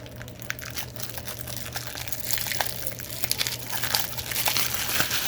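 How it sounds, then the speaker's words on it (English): Paper being peeled off hardened hot glue during a doll-clothes craft, a steady close crinkling and crackling with small sharp snaps, continuous over a low hum. "Now I'm going to take the paper off of it so it can just be the glue."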